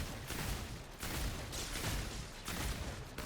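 Dense, continuous gunfire from a ritualist build in Remnant 2 surges in three heavy waves, loud and close, with no talk over it.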